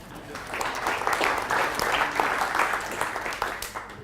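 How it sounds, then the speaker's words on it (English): A conference audience at a tech event applauding, moderately loud clapping with audible individual claps in uneven bursts, fairly close, and faint talking underneath. "can you all give yourselves a round of applause for being such interesting and lovely people?"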